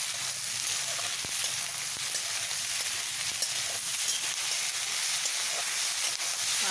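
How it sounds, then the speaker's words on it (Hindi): Bell pepper pieces fry in a pan for a soya chilli, giving a steady, close hiss and crackle of sizzling oil that holds even throughout with no voices. "इन्हें भी थोड़ा सा फ्राई कर लेते हैं।"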